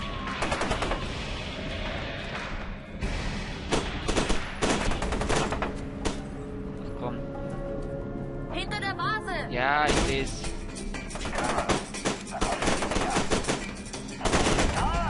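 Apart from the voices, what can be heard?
gunfire in a video game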